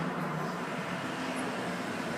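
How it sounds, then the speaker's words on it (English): London street traffic as a faint, continuous wash of distant road noise, an even broadband hiss and rumble with no distinct passing vehicles and no voices. "Excuse the London traffic."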